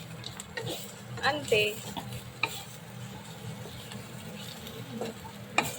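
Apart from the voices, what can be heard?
mixing raw banana pakoda fry with coriander in pan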